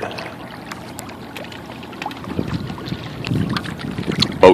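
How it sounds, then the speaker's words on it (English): A boat heads out from a marina at Catalina Island during Buccaneer Days, its motor a low, steady rumble under wind buffeting the microphone, with water sloshing that grows louder toward the end. "Taking the boat out."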